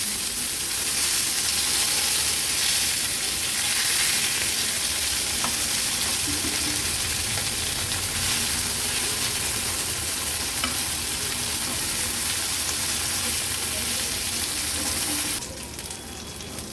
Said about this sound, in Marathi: तुम्ही बघू शकता किती व्यवस्थित ही कालवं आपली फ्राय झाली आहे.